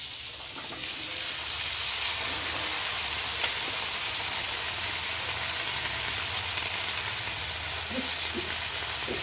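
Bottle gourd greens go into a pan of frying potatoes, eggplant and prawns, giving a steady, even sizzling hiss that runs throughout with a few faint knocks near the end.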